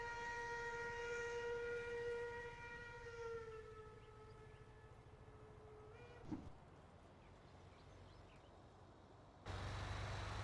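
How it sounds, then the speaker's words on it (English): A train in Farming Simulator 19 on the Sudhemmern map sounds a sustained, harmonic horn-like tone that sags in pitch as it passes. A brief knock follows, then a steady low rumble and hiss. "look at that cool train"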